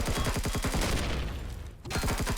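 Turrets firing rapid bursts of gunfire in the sci-fi game Empyrion Galactic Survival, loud and close, with a brief lull before the shooting resumes.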